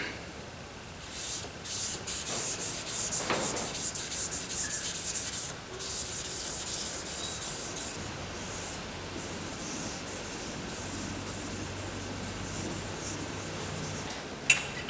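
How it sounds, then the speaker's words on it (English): Wet sanding on a Jeep Liberty car bumper's paint with 2000 grit sandpaper, a steady close rubbing hiss that carries on for the whole stretch, with no talk over it. "Now I'm going to switch over to finer grit sandpaper so I can eliminate those scratches"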